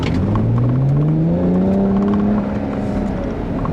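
A 2013 BMW 335is straight-six engine revving up smoothly, its rising tone climbing steadily and loud, then settling into a strong, even drone.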